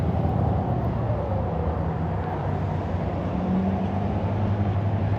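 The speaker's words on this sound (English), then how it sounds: "Ooh, that truck sounded pretty good." A turbo diesel truck passes in a Denton, Texas suburb, its engine a continuous low, droning rumble with a rising and falling whine, moderately near and steady throughout.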